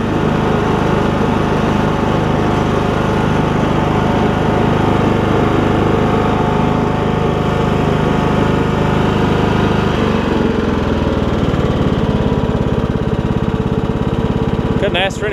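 A Troy-Bilt Bronco lawn tractor engine runs loud and steady up close, its drone holding a constant pitch before shifting slightly lower near the end.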